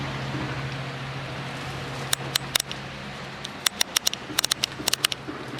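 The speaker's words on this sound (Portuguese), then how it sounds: "tá chovendo muito." Heavy rain falls steadily in a Brazilian home setting after months of heat, a dense even patter with a low constant hum beneath and scattered sharp ticks and clicks from drops striking nearby surfaces.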